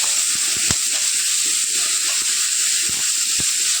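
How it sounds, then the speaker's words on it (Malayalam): Ginger garlic paste fries in a pan over low heat, giving a steady close sizzle and hiss with scattered scraping clicks of stirring, and no voices. "ഇഞ്ചി വെളുത്തുള്ളി പേസ്റ്റിട്ട് നമ്മൾ തീ കുറച്ച് വെച്ചിട്ട് നല്ലതുപോലെ ഇളക്കുക"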